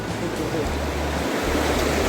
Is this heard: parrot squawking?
no